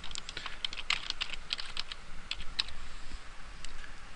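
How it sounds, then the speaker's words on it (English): Quick, light tapping on a computer keyboard while a name is entered into a ship-design program, a steady run of close, soft keystrokes with no talking. "so we just type in a name for the vessel"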